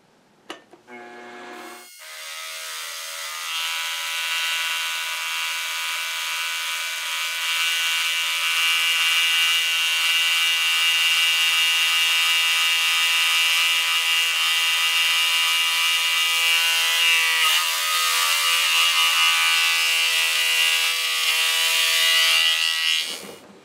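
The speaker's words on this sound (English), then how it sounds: "I'll probably just take a couple of finishing cuts up each side. Quite a lot of vibration though," Finishing cuts while machining an insert tool holder, a steady loud high-pitched whine with heavy vibration chatter that holds for about twenty seconds after a brief start-up, then cuts off.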